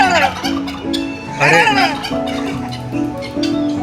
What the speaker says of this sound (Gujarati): પહેલાં તો લાગ્યું હતું કે આ મરઘી છે, પરંતુ નજીક આવ્યા એના બાદ ખબર પડશે કે આ શું છે, ટર્કી.